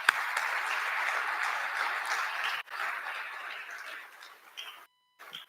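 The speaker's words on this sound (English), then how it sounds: "So big round of applause for all those people too." Audience applause at the Tempe All City Awards ceremony, a steady, fairly loud clapping from a full room that thins out toward the end and drops to silence before a last few claps.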